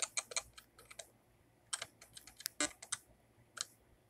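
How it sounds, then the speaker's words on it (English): Button presses in a calculator video game give quiet, crisp clicks in quick irregular bursts with short pauses between them, with no speech. "Just like the clicking noise is rather satisfying."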